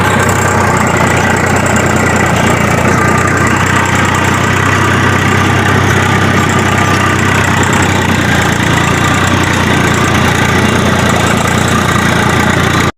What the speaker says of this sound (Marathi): आता ट्रॅक्टर चालवतो मी,